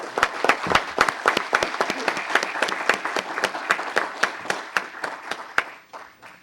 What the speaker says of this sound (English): just to give her a round of applause just for her time here